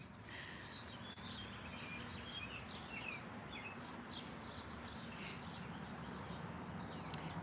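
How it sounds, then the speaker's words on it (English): Faint bird chirps and short tweets scattered over a steady outdoor background hum, fairly distant and quiet. "There's lots of birds and noises going on right now"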